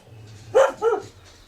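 Two sharp dog barks close by at a dog kennel beside a stile on a Lake District country walk, the second slightly softer, over a quiet outdoor background.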